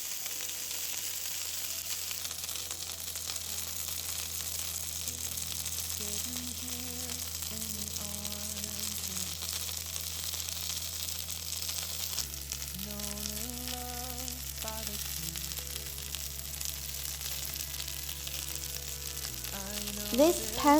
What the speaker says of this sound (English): Continue cooking for around 2 minutes over a higher fire to achieve gorgeously crispy skin.